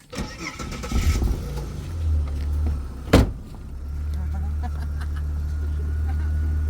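Homemade vehicle being started and driven on a test run, with a loud engine rumble building up, a sharp clank or door thump midway, then a steady low motor drone continuing to the end.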